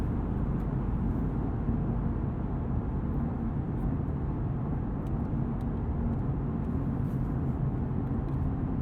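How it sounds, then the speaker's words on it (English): Steady low tire rumble and road roar fill the cabin of a 2020 Lexus RC F at 75 mph on Michelin Pilot Sport 4S performance tires, constant and even throughout with no talking. "So there's a decent bit of road noise just coming from those Michelin Pilot Sport 4S Performance tires"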